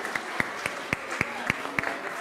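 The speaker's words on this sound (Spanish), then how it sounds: "aplauso para los jóvenes y niños" Rhythmic clapping at a church Mass in honour of the young people and children, sharp claps landing in steady unison roughly three or four times a second, fairly close and brief.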